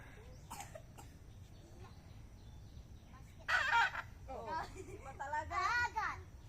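A rooster on a backyard farm, whose crow is unusually hoarse and voiceless, gives raspy crowing bursts close by. Voices talk around them, and one voice seems to imitate the call.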